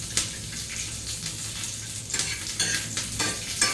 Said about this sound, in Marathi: मिरच्या परतवून झालेल्या आहेत माझ्या.